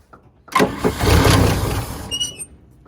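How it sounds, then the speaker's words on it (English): A 1956 Chevy 210 engine, left sitting for 25 years, cranks and catches: a broadband roar surges from a loud start into a steady, rough run with a faint squeal near the end. "So, and the car started."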